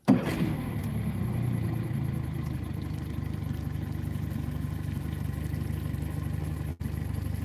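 A Mercury 60 horsepower outboard engine on a bass fishing boat drones steadily and loudly at close range with a low, continuous hum for the whole stretch, with no talk over it.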